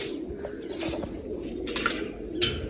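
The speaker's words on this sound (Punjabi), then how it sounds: "ਕਬੂਤਰ ਇੱਧਰ ਆਏ ਫਿਰਦੇ ਆ" Domestic pigeons near an open loft coo softly at close range in repeated throaty calls, mixed with a few light rustles and brief sharper background noises.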